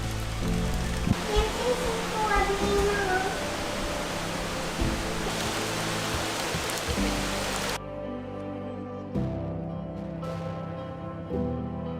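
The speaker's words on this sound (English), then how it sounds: "Probably a quick thunderstorm." Heavy, steady thunderstorm rain hisses across the scene, with a voice speaking faintly under it before the sound abruptly drops to quieter dripping.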